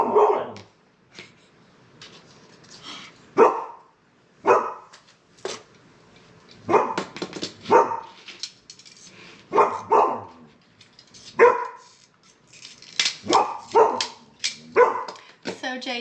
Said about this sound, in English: She barks at everybody that walks by.